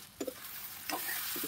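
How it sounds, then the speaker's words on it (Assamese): Ginger garlic paste fries in a pan, ahead of chicken being added for an Assamese curry. Soft sizzling comes and goes in a few short bursts over a steady background hiss, fairly quiet. "আদা নহৰু পেষ্টকণ দি অকনমান সময় এনেকৈ ভাজোঁ"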